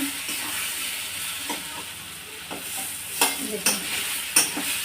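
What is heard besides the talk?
stirring pointed gourd paste in a pan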